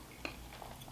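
Crunchy bacon on a meat lover's pizza gets bitten and chewed up close, two or three quick crisp crunches in a brief, quiet moment.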